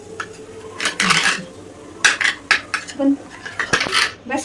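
A knife spreading butter over sandwich bread, with scraping strokes and clinks of metal against a plate coming in short irregular bursts at close range.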